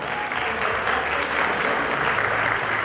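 Strong applause for the birthday girl at a quinceañera celebration, a dense, steady wash of clapping from a crowd of guests that continues evenly throughout.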